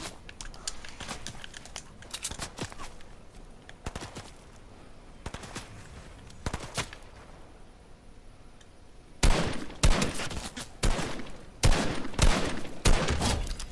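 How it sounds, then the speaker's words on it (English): Assault rifle gunfire in Fortnite comes as scattered sharp bursts of rapid shots, sparse at first and then louder, denser volleys near the end over faint background clicking. "Assault rifle."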